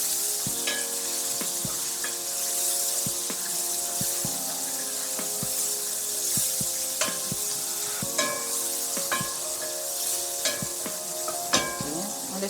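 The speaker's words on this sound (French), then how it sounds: "je mélange mes condiments. Je mets aussi le poivron. Je remue." Condiments and bell pepper being stirred in a hot frying pan, with a steady close sizzle broken by repeated scraping clicks of the utensil against the pan.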